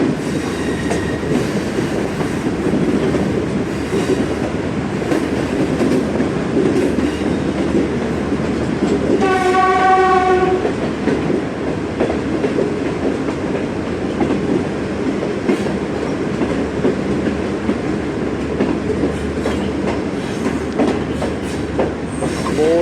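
Pakistan Railways' Pak Business Express arrives running late in fog. Its wheels clatter and rumble steadily while the horn sounds one loud, sustained blast partway through.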